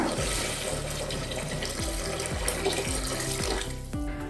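A steady stream of water pours and splashes continuously into a pot for mutton bone soup, with faint clinks of metal underneath.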